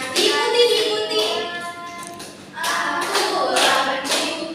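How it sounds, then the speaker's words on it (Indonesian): A group of people clap their hands together in loud, rhythmic bursts, with voices carrying over the claps throughout. "Semuanya tepuk tangan ya."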